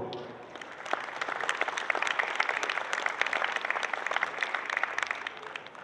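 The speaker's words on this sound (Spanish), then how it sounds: "Fuerte el aplauso para todos ellos, por favor" An audience at the opening of a dairy expo applauds steadily, a moderately distant, even spread of many hands clapping that holds throughout with sharper claps poking through.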